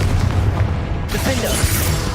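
A Confringo blasting spell explodes in Hogwarts Legacy, a dense, booming burst with a sharp onset that rolls into a sustained, crackling rumble. Game ambience continues underneath.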